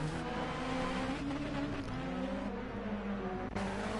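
Rally car engines roar and rev in the racing game Dirt Rally 2.0 on a Norway rallycross course, a loud continuous engine drone with shifting pitch and brief tire noise, heard alone.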